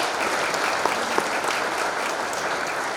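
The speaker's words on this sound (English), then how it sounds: "nice round of applause for those folks." Applause from an audience at a sports hall of fame induction ceremony, a dense, steady wash of clapping filling the room at even loudness throughout.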